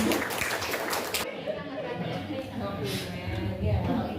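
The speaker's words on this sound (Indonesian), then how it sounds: "tepuk tangan" Clapping from an audience at a curriculum socialization session in Banjarnegara, Indonesia, a brief burst of hand claps for about a second, then murmuring voices and room chatter.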